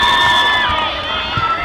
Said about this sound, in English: We have a massive crowd.